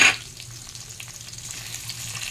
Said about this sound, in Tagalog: Gigisa natin sa patola.